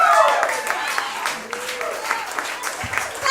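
A comedy club audience applauds a stand-up comedian in a live radio broadcast setting, steady clapping fading slightly while a host speaks over it.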